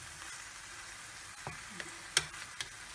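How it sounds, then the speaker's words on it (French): Chicken filling for Moroccan square crêpes sizzles quietly in a pan, a soft continuous frying hiss with a few light ticks and stirring clicks. "On va laisser cuire notre farce."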